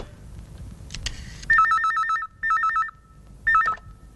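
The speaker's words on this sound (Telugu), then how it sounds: "అలాగే నేను ఫోన్ చేస్తాను." An old-style telephone rings in three separate electronic warbling bursts with short gaps between them. The ringing is close, loud and heard alone.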